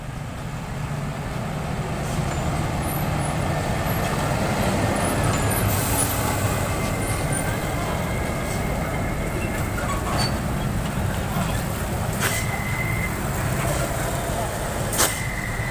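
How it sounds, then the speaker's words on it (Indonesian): A Scania trailer truck drives along a slick road at dusk, its engine a continuous low rumble with road noise, fairly close and steady throughout, with a few brief higher tones near the end. "Trailer Scania."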